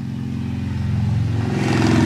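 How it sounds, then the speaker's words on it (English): A motorcycle engine drones with a steady pulsing rumble, growing gradually louder as it draws closer. "here comes the motorcycle"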